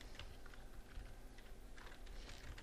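Continuous typing on a computer keyboard, a steady patter of quick, close key presses with no voices over it.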